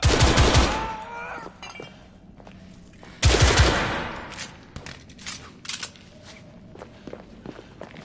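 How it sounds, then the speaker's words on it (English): Gunfire bursts in The Order: 1886, two loud volleys of rapid shots roughly three seconds apart with a tunnel echo, followed by scattered fainter shots and clatter. "Gunfire was coming from that tunnel."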